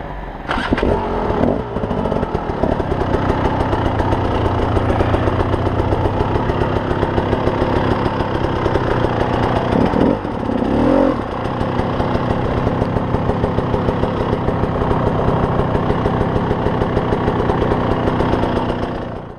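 A trials motorcycle engine labours up a steep hill climb, a loud, close, continuous buzzing drone with rapid firing pulses and brief revving swells throughout, no voices over it.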